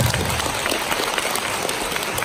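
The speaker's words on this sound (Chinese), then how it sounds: "好，我们掌声欢迎他。" Audience applause fills the hall of a testimonial stage event, steady dense clapping sustained throughout without a break, moderately loud and close.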